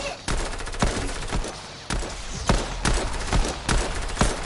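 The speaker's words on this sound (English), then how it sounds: "I'm just randomly shooting because I'm bored" Gunshots fired at random in a video game, a string of loud, close shots in an irregular rhythm about every third of a second, with no one talking.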